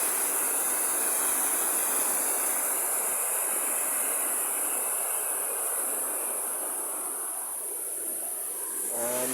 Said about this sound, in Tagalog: Ito yung falls guys